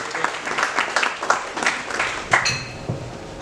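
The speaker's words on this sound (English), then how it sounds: "Please welcome him with a big round of applause." An audience at a medical lecture on obstructive airway disease claps in welcome, a steady patter of many hands with no pause.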